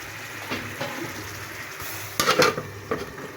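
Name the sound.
covering the pan with a lid while cooking potol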